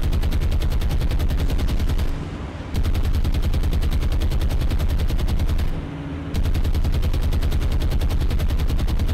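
Warship anti-aircraft guns in a War on the Sea naval combat game hammer out loud, sustained rapid fire, broken by two brief pauses before the barrage resumes.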